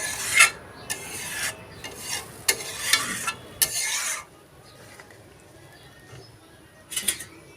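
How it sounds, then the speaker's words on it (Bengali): Chicken curry is stirred in a pan, with repeated rasping scrapes of a spatula in bursts over a soft background, then a quieter stretch and a final short scrape. "ঝোল দিয়ে দিলাম, ভালো করে নেড়ে নিচ্ছি।"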